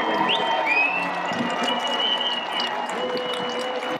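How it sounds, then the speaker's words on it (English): Softball fans at a University of Arizona Wildcats game cheering and applauding, a steady wash of clapping and crowd noise with occasional whistles and shouts over the whole stretch. "The UA fans excited and cheering their team on."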